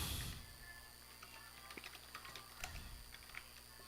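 Keys click on a computer keyboard in short irregular bursts, faint and close against a quiet background hum, with no one talking.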